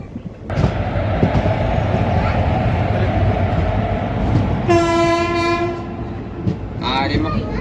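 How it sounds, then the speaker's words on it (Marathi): An express train hauled by a WDP4 diesel locomotive rumbles steadily along close by, and a long, loud horn blast sounds midway, followed by a shorter wavering horn note. "कोल्हापूर इथून आपली ट्रेन निघालेली आहे"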